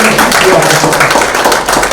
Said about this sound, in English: And give yourself a big applause.